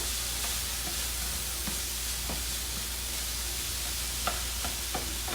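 Seasoned food with hot sauce and rice vinegar sizzles steadily in a pan, a broad constant hiss, while a utensil scrapes and taps the pan a few times, near and unaccompanied by talk.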